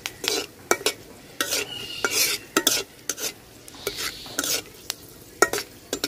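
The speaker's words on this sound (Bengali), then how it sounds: "তেল গরম হয়ে গেছে, এখন ফোড়ন দিয়ে দিব তেজপাতা, এলাচ, দারচিনি" Bay leaf, cardamom and cinnamon frying in hot oil as the tempering for a koi fish curry, with a steady sizzle and repeated sharp scrapes and clinks of stirring, close up and without speech.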